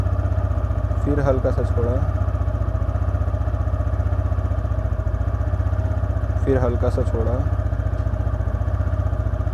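A motorcycle engine idles in a steady low thrum and creeps forward as the clutch is eased out. It stays loud and close throughout, under someone speaking twice.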